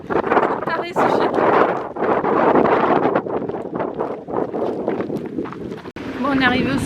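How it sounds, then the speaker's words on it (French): Strong gusty wind buffeting the microphone on an Alpine summit, loud and continuous with roaring bursts, a voice talking over it. "Il y a un vent de malade."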